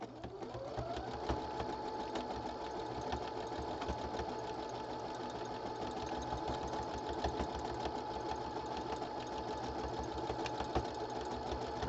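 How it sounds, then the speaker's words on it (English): A sewing machine runs steadily as it stitches down the center of a piece of fabric, a fast even whirring hum that spins up at the start and holds close and constant with no talking. "I'm gonna just try and just stitch all the way down the center of it."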